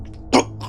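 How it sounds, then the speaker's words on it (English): A single short, strained cough bursts out close by, briefly, over a quiet low hum, with a faint breathy sound after. "but lets out a choked cough"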